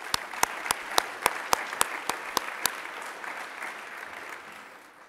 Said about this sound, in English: please let's give her one last round of applause